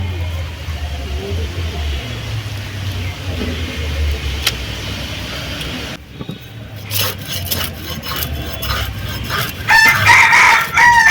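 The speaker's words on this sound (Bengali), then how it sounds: "এই মুরগি আমাকে কথা বলতে দিবে" Chickens cluck and a rooster crows amid rustling and rubbing sounds, with a louder crow near the end, all fairly close.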